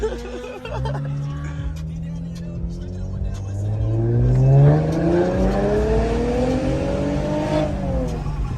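Straight-piped Infiniti Q50S pulling away hard, exhaust revs climbing through rising harmonics to a loud peak around mid-clip, then holding strong as the car moves off; voices talk over it.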